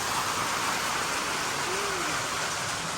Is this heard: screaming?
no